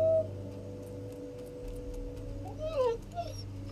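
A dog in the video game Valiant Hearts gives a couple of short, wavering whimpers near the end, heard over steady, droning in-game music.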